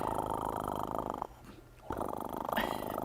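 A man imitates a cat's purr with a low, rattling throaty vibration that pauses briefly midway and then resumes.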